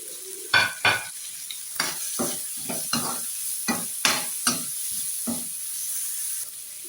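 Carrot goes into macaroni frying in a pan for chicken macaroni, with a series of sharp spoon scrapes and stirs at an uneven pace over a soft continuous sizzle, close up and without talk.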